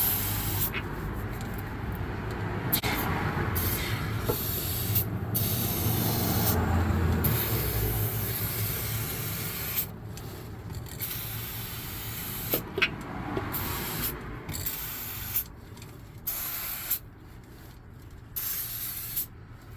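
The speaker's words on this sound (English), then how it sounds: "I wanted to take some metal protector and spray up inside there." A long hissing spray from an aerosol can of metal rust protector runs steadily, then breaks into shorter bursts with pauses between them.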